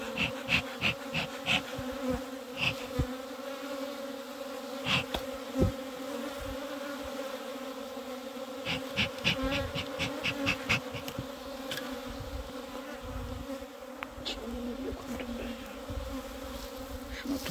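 A swarm of honeybees buzzing around a hive after swarming, a dense and steady hum up close that keeps going the whole time, with knocks and rustles now and then and no speech.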